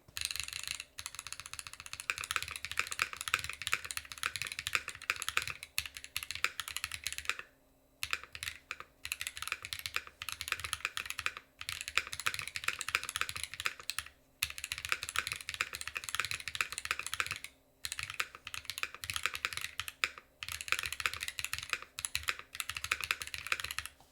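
Rapid, clicky mechanical keyboard typing fills the room in continuous bursts, broken by a few brief pauses, close and crisp with no talking.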